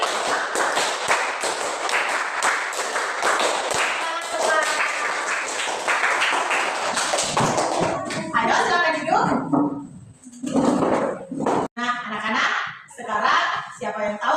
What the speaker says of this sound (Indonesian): Tepuk 3 kali, tepuk 4 kali, tepuk 5 kali, tepuk 5 3 kali